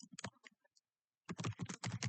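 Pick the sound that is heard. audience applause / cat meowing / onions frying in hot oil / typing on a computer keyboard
typing on a computer keyboard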